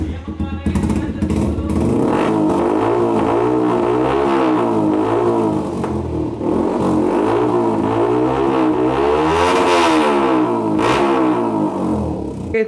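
A Yamaha R15 v3 motorcycle fitted with an SC Project exhaust revs repeatedly up and down in loud, rising and falling surges, heard close and continuous throughout.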